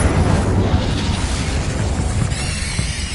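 Casting the Incendio fire spell in Hogwarts Legacy releases a loud, continuous roaring whoosh of flame that fills the whole moment with dense rumbling blasts and ends in a brief crackling flourish, with no speech.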